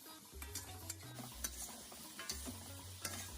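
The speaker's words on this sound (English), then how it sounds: "To this, I'll add the rest of my vegetables and I'll stir fry it for another minute" Mixed vegetables with carrots being stir fried in a pan, quiet sizzling under repeated scraping and tapping strokes of a utensil at an even pace, close but soft, with no speech.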